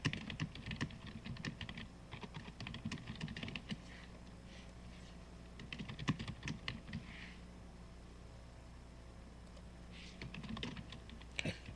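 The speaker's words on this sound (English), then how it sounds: "I'm typing in the poll here" Rapid bursts of computer keyboard typing, clicking close by in uneven runs with short pauses, over a quiet low hum.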